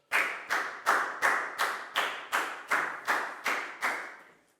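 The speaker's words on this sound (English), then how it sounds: "High five and a big round of applause for Dan, please, guys." Children in a classroom clap together in a slow unison rhythm, about ten sharp, evenly spaced claps that fade out at the end.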